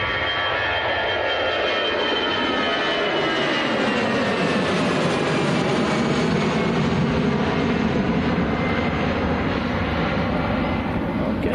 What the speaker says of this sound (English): And then we'll turn to the Royal Air Maroc, which is just about to land.